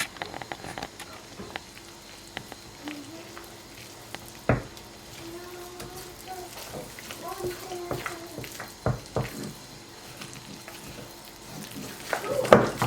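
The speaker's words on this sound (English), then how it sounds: "now we're going to mix all together" Nut bread batter with baking soda is stirred in a bowl, giving soft wet squelches and occasional clicks of the utensil against the side, close and steady while a voice hums faintly in the background.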